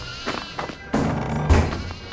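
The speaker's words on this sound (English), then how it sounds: "Goats." Demonic-looking goats in the horror game Devour bleat in a few short, close calls, the last one louder than the rest.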